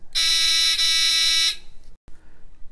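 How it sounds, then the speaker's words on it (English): A loud, harsh electric buzzer in a simple circuit drones steadily for about a second and a half, briefly stutters mid-way, then cuts off into quiet. "this buzzer is producing a sound that sounds like this"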